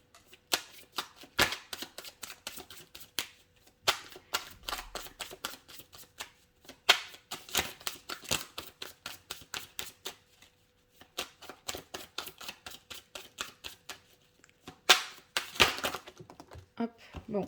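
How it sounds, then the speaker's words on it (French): Oracle cards are shuffled and drawn, making rapid riffling, flicking bursts in several long runs with short pauses between them, close up and crisp. "je vais tirer quand même une carte de plus."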